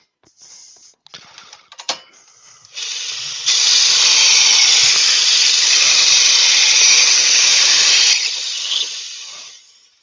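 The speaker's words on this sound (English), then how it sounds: "I'll just quickly sharpen this gouge" A bench grinder sharpening a woodturning gouge: a few light taps and brief bursts, then a loud steady hissing grind held for several seconds before fading away, close by with no talk.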